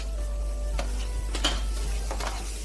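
Japanese germ rice stirred into a paella pan after the purée has cooked down: soft sizzling and frying with a few scraping stirs of a utensil against the pan, close and fairly quiet.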